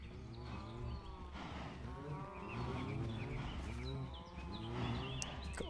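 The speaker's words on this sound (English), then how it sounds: "God, these cows are loud." Loud, repeated cow moos from Minecraft livestock, several overlapping low calls following one another steadily across the whole stretch with no talking.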